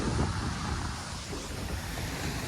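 Sea waves washing onto the coast near an island, a continuous rushing surf mixed with wind buffeting the microphone, fairly loud and unbroken, with no talking.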